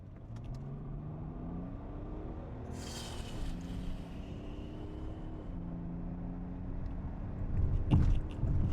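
A BMW E39 5 Series sedan with an automatic torque-converter gearbox starts up: a brief cranking burst gives way to an engine note that climbs and then settles into a low idle, fairly quiet and alone, with a knock near the end.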